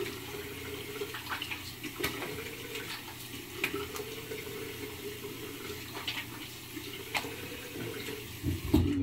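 Tap water runs quietly and splashes intermittently while a face is rinsed after a shave, with soft scattered spatters and dripping heard faintly in a small room.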